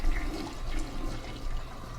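A toilet flushes in the video game Sleeping Dogs Definitive Edition on Xbox One: a loud, close, continuous rush of swirling water lasting the whole two seconds, with no talking.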